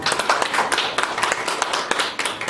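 Applause from an audience at a public healthcare policy forum, thanking a professor after his presentation; dense, close clapping lasting a couple of seconds with a faint voice underneath.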